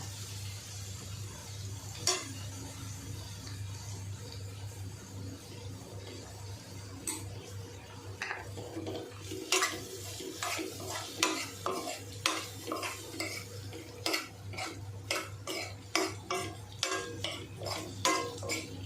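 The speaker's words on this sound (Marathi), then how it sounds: "आणि थोडं परतून घेऊया आणि आता ह्याच्यामध्ये आपण बटाटा टाकून घेऊया" Potatoes tossed into a pan for ragda chaat are sautéed and stirred, with a low steady sizzle under a growing run of close, rhythmic spoon clinks and scrapes against the pan, no talk.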